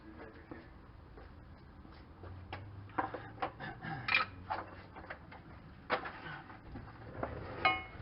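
A screwdriver pries the plug off a vacuum bypass cut-off valve on a Nissan Pathfinder, making faint, irregular clicks, taps and scrapes of metal on plastic, close up and fairly quiet.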